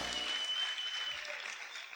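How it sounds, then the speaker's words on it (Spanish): Church congregation applauding loudly, a dense continuous wash of clapping throughout with no speech over it. "¿Cuántos pueden gritar y aplaudir fuerte al Señor en esta hora?"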